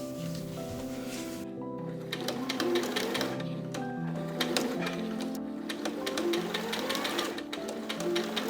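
A sewing machine stitching the front panels of a fabric corset together, a steady close-up mechanical whir with rapid needle clatter running continuously, with a few brief pauses and shifts in speed.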